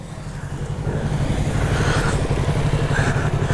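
A Yamaha R3 motorcycle ridden along the ECR road near Chennai, its engine hum building in the first second into a loud, steady drone mixed with wind rush.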